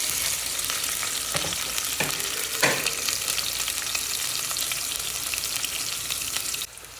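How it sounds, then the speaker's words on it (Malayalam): Ginger, garlic paste and tomato frying in hot coconut oil, a steady close sizzle with a few stirring scrapes, ending in a slight drop; no voices. "എന്നിട്ട് അതിലേക്ക് ഇതാ ഇഞ്ചി, വെള്ളുള്ളി ഇഞ്ചി പേസ്റ്റ്, തക്കാളി ഇടുക."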